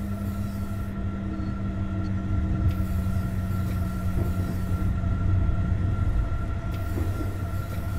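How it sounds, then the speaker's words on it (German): A BR 101 electric locomotive rolls into a station platform in the Train Sim World 4 simulator on the Riesa to Dresden line, with steady low rumble, humming tones and faint wheel noise at a constant close level. "So, dann fahren wir schön geschmeidig und gemütlich an den Bahnsteig."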